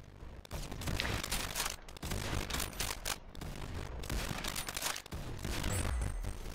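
Rapid gunfire from the Roblox shooter game Arsenal, a dense run of crackling shots and bursts that fills the whole stretch loudly with only brief gaps.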